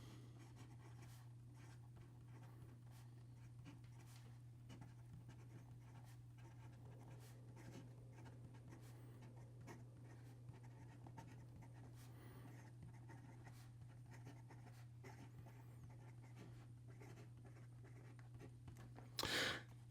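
A Franklin Christoph Model 66 fountain pen moves across paper in quiet, close scratching strokes over a steady low hum, with a brief louder knock near the end.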